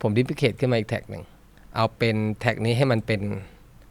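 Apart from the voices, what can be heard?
No everyday noise stands out behind the speech.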